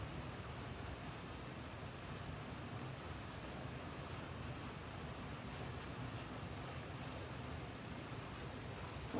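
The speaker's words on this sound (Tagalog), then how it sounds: "Umuulan po ano?" Rain falls steadily near a house, a faint, even hiss of broadband noise lasting the whole stretch with no voices.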